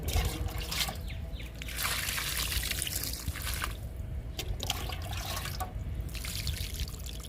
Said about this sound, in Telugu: బీర, కాకర పొట్లకి వాటర్ ఇస్తున్నాను.